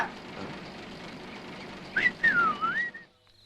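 A person whistles a short rising-and-falling tune near the end, clear and fairly close over a dim background murmur of a film scene.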